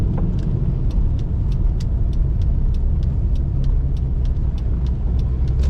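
Inside a C5 Corvette with a cammed V8 and 6-speed manual, driving in the rain, a steady low engine rumble continues throughout, with evenly spaced ticks repeating about every fifth of a second.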